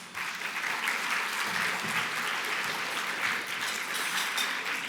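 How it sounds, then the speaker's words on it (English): Audience applause fills a volunteer recognition luncheon, a steady, dense wash of many hands clapping that holds loud and even throughout with no speech over it. "So please just give yourselves a round of applause."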